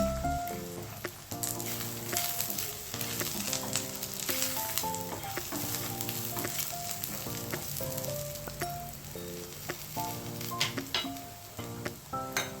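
Dry coconut sizzles and fries steadily in a pan while a misal masala is prepared, with a continuous close crackle running under background music.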